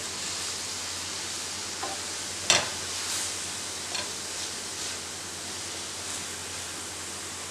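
Onion and tomato with salt are stirred in a frying pan over a soft, steady sizzle, with a few scattered scrapes and one sharp clack from the utensil.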